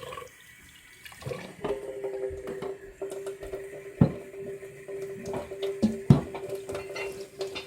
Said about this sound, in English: So we wash the rice out real quick